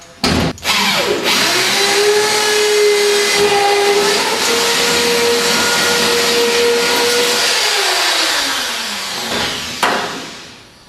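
A power drill bores a small 3.5–4 mm hole into a car chassis, its motor whining loudly and steadily for several seconds before spinning down and stopping.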